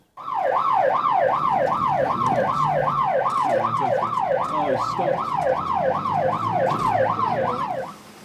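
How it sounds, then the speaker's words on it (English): A loud, close siren wails in fast, regular up-and-down sweeps for several seconds over a low engine rumble, cutting off abruptly at the end. "The police car came up behind me, lights flashing,"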